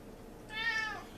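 A pet cat named Dak gives a single short, clear meow in a kitchen where brisket is being sliced, close and distinct against quiet room noise.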